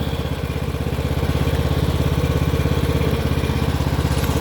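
An old small riding lawn mower with a conventional transmission, its engine chugging in a fast, steady putter close by, the note rising and falling slightly as it surges.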